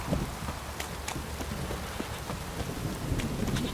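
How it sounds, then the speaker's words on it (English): A constant heavy downpour hisses in The Witcher 3, with scattered raindrop ticks and low thunder rumbling underneath. "This downpour's a bastard"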